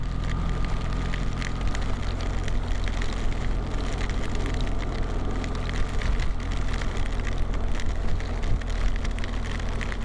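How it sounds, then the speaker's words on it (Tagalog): Heavy rain pours down during a stormy ride in New Zealand, a dense, steady roar of water that stays loud and unbroken throughout, with no voices. "Oh, heavy rain."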